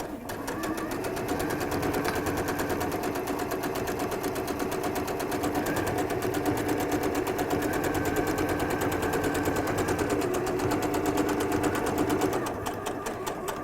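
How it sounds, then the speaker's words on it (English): A sewing machine basting fabric with a long stitch while making cushions, a steady rapid mechanical chatter running close and loud throughout without pause. "the first thing I'm going to do is just baste them down"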